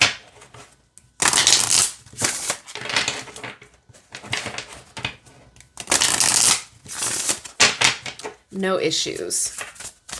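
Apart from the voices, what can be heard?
shuffling Witching Hour Oracle tarot-size cards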